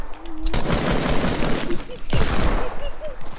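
Gunfire in a video game, loud close bursts of rapid shots in two bouts separated by a short gap, with a voice talking faintly underneath.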